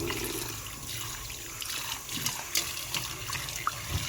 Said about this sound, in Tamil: பாருங்கள் மக்களே, மீனை இப்போ கழுவுவோம்.